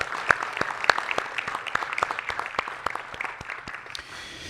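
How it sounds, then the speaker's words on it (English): Audience applause rings out at a school committee meeting, a steady patter of many hands clapping at moderate volume for several seconds before thinning out toward the end. "So if we can give her a round of applause"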